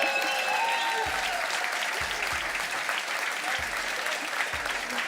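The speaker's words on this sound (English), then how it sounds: "Give it up a big, fat round of applause for Come To Us, Keenan David." An audience at a Summoners War esports awards ceremony claps loudly and continuously, a dense, sustained applause from a large crowd in an indoor arena.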